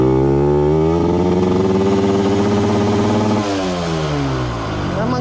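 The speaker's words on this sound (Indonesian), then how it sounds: "So kalau korang tahu, bunyi motor ni memang jahat." A poorly maintained Yamaha 125Z motorcycle engine revving close by, a loud, raspy two-stroke drone that holds steady, then drops and rises again toward the end.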